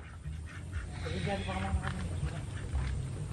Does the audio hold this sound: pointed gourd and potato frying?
no